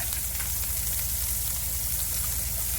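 Ingredients fry lightly in a pan for a spinach coconut-milk dish, giving a steady, even sizzle that stays constant and fairly close, with no voices.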